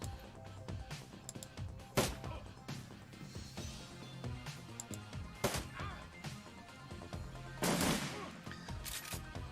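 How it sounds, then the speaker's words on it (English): Gunfire in the Shadowrun Returns video game, with several sharp shots cutting through a busy game soundtrack, the loudest bursts landing near the middle and toward the end. "I'll just shoot her with a gun"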